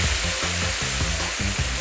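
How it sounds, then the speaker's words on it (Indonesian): Plant-based meat, steamed first, fries in hot oil with a loud, continuous sizzle, broken by regular stirring or pan-scraping pulses, close up and with no voices. "Setelah dikukus, daging nabati kita goreng dengan api panas selama beberapa menit."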